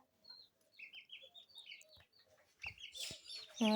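Chicks shut in a pen chirp in quick, high peeping runs, close by, with a few scattered knocks and a louder burst of cheeping near the end.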